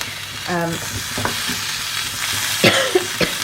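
Chilli frying with onions in a pan for a chickpea and kale curry, a continuous close sizzle broken by a few stirring scrapes and knocks.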